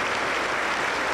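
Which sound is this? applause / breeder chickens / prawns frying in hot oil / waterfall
applause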